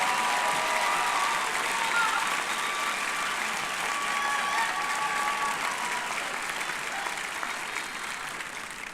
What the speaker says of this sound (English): How about a nice round of applause for the Western Brass Ensemble led by Dr. Steve Wolfenberger.